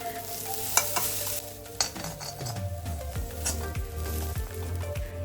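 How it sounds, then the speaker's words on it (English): Grated coconut roasting in ghee with cashews and raisins, a steady close sizzle broken by repeated scraping stirs of a spoon against the pan and a few light metallic clinks. "1 cup of grated coconut is also roasted for a minute"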